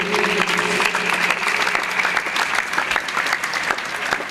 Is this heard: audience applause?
yes